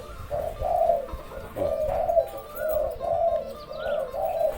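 Spotted dove cooing up close, a kept bird under training, giving a series of rhythmic low, hollow coos in repeated phrases, loud and clear with faint background noise and no talking.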